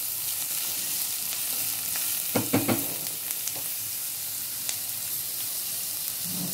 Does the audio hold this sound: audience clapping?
no